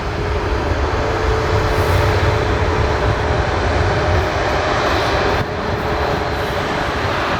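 Jet engines of a Boeing 737 MAX airliner at Portland airport in wet, windy weather, a loud steady roar filling the whole stretch with a slight drop near the end.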